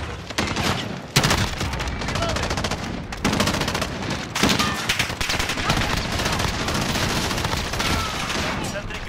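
Loud automatic gunfire from Call of Duty Modern Warfare, with dense rapid bursts that run nearly nonstop and brief shouted combat callouts mixed in.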